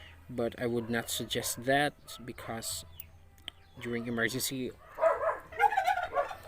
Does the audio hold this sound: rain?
no